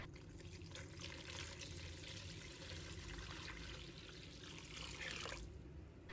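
Clean water pours steadily into a bowl of raw oysters for washing, a continuous splashing stream that runs close and fairly loud, shifting slightly near the end.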